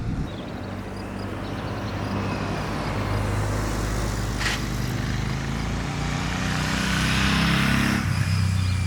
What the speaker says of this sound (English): you can hear where the bike is in the revs pretty clearly from the sound of the bike